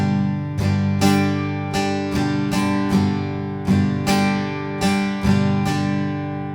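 A steady, quick acoustic guitar strumming pattern at full tempo, with a sharp chord attack on each beat and lighter strokes between, played close and alone.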